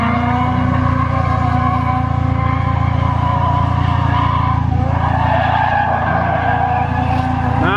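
A car drifts with its tires skidding in a long, continuous squeal over a loud, sustained engine roar, close and dominant throughout with no speech.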